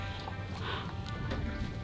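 Horses are led out of quarantine at a horse shelter, their hooves giving a soft, irregular clip-clop against faint background noise and low voices.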